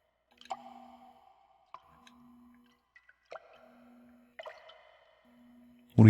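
Water drips slowly in a quiet, echoing space in The X-Files video game. A handful of separate plinks with ringing tails sound over a faint low hum, and a louder sound cuts in at the end.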